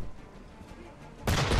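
Gunfire from enemy soldiers in Assassin's Creed III: a low rumble and scattered noise, then a sudden loud, dense burst of shots that holds steady to the end.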